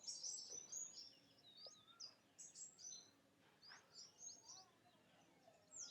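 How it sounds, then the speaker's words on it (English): Birds chirp and tweet in short, high bursts against a quiet outdoor background, fairly soft and scattered, with no talking. "listening to the birds, listening to any noises you hear around."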